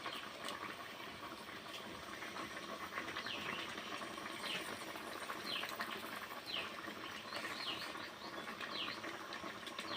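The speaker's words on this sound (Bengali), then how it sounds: "কত সুন্দর আস্তে আস্তে তরকারিটা ফুটছে" A crab and potato curry bubbles gently in a pot, a steady soft seething with faint pops and gurgles that runs unbroken the whole time at an even, moderate level, with no voices over it.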